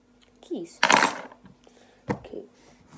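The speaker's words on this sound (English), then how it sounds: "Keys." Keys jingle in a couple of bright metallic bursts, one long rattling shake followed by a shorter clink, close and fairly loud, with a brief voice in between.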